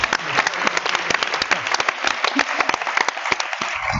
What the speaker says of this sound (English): So let's applaud those guys.